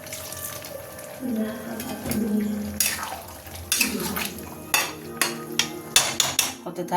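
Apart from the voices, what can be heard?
pouring water into jackfruit prawn curry pot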